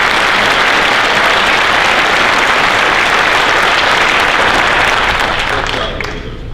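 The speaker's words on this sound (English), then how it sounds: "We can give them a round of applause." Audience applause for police academy graduates at a graduation session, a loud, dense, sustained roar of clapping from a large crowd that tapers slightly at the very end.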